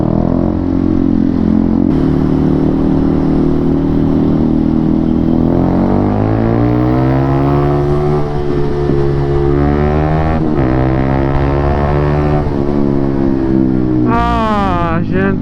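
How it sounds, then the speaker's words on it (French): A vehicle engine drones loud and steady, its pitch climbing as it pulls out and accelerates past a slow truck on a rough road, with a brief dip before revving higher again at the end. "Passer ce camion, oh, ça fait du bien."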